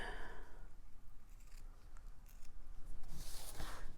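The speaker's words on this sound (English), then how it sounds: "And then I'll just trim that a little bit." Scissors trimming the knotted end of material on a handmade pocket holder, several quiet close snips and rustles, with a sharper cut near the end, no talk.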